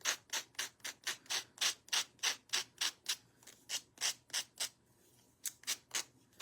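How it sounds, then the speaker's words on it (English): Sandpaper rubs back and forth over pieces of a DIY wood kit for a quilt-block design of zinnias and dragonflies, about two dozen quick, even strokes in a steady rhythm with a short pause near the end, close and clear. "now I'm probably sanding stuff I've already sanded"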